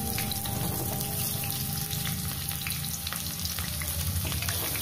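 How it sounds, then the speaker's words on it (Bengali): Onions hit hot oil in a pan after fish was fried, giving a steady, dense sizzle and crackle that holds close and loud throughout, with no talking. "এবার আমি তেলে দিয়ে দেবো পেঁয়াজগুলো।"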